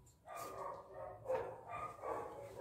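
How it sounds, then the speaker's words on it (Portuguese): Dog barking in a dark house during evening chores, several bursts at moderate distance in a broken rhythm. "Tem cachorro latindo"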